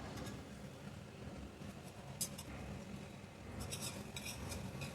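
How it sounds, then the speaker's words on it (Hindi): Shakkar pare frying in hot oil in a heavy kadhai over a gas flame, a steady close bubbling sizzle with occasional stirring clinks, continuous throughout and without talk. "तो मैंने भारी कढ़ाई ली है ये, और इसमें मैं तल रही हूँ।"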